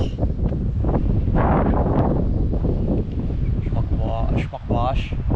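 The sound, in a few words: wind blowing at a waterfall at night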